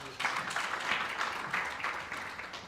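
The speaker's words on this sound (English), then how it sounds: "Big round of applause for him as well." Audience at an Arab business council event applauding a speaker walking to the stage, a steady wash of clapping from a moderately sized room, fairly close and without talk.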